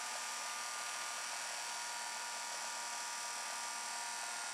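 A bargain store toy hovercraft's small electric motor whirs in a steady, high-pitched continuous buzz as its battery runs down, droning without pause and with no talking.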